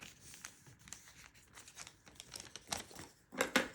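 A small bag is folded in half for a journal, making soft, close crinkles and crumpling rustles in short bursts, with a sharper crinkle near the end.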